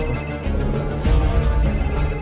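A telephone rings in a domestic scene, its tone sitting within a dense, noisy mix of background sound and music, continuing for a couple of seconds.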